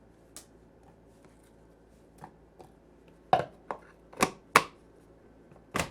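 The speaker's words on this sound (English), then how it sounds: "I'm going to go ahead and attach the motor, and let's give it a spin." A motorized Kalorik Maxx food chopper dicing onion in a few short bursts of sharp chopping clatter, close and separated by quiet gaps, loudest toward the end.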